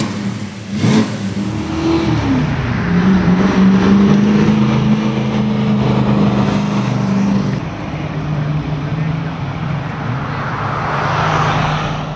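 A classic car pulls away for an evening cruise night in Encinitas, California, its engine revving up loud and close, then settling into a steady drone as it drives off, with road noise behind.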